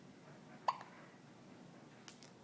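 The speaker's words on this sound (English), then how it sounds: "Is this natural for you to have hiccups?" A single sharp hiccup from a person, close and distinct, with a second fainter hiccup-like catch near the end against quiet room background.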